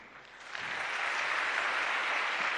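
An audience at an award ceremony breaks into applause that swells within the first half second and then holds as a dense, steady wash of clapping.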